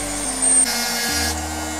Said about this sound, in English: is that what you do to etch the date in?